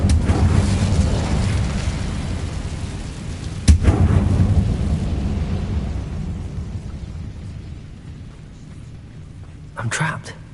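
An Incendio fire spell explodes in Hogwarts Legacy with a sudden sharp blast over a rumbling, crackling wash that slowly fades, and a second smaller burst near the end, with a voice speaking briefly.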